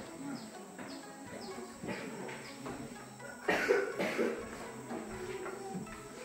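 Several short coughs break out in a row, fairly close, over faint background insect chirping.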